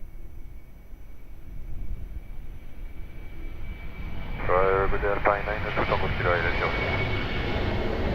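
A Boeing 737 jet rolling on the runway at Lisbon Airport gives a steady, distant engine roar that swells partway through, with radio chatter over it.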